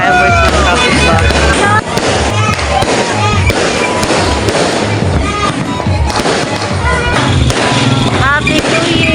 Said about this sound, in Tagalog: Watching fireworks ng kapitbahay.